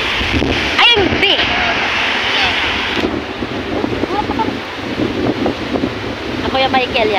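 Typhoon wind roars and buffets the microphone while waves surge and crash nearby, loud and constant, with people's voices talking over the storm.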